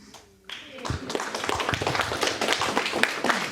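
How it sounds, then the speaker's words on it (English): A small audience of community group members claps at a school bond issue meeting. Scattered, uneven hand claps start after a brief quiet moment and build into light, moderately close applause. "Claps before I even say anything."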